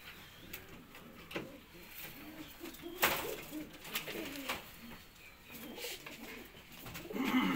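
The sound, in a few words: pigeons cooing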